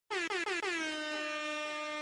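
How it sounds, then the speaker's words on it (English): An air horn sound effect gives three short stuttering blasts and then one long sustained blare, loud and close, alone with no talk. "Damn air horn"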